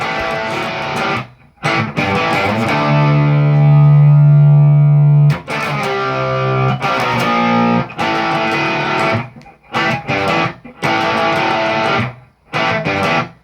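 A loud, heavily distorted electric guitar plays a chunky riff, choppy chords and sustained notes, with short gaps between phrases.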